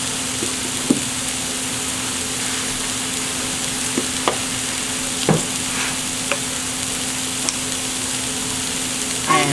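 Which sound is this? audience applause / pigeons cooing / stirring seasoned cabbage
stirring seasoned cabbage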